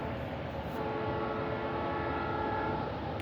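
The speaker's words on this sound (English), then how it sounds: "Hear the choo-choo." A train rolls past with its horn sounding, a steady, loud rumble filling the whole stretch, with sustained horn tones layered over the rail noise.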